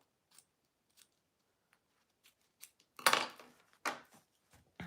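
Scissors snip through the edge of a fabric wallet in a few quiet, separate cuts, then a denser run of louder crunchy snips in close succession near the end.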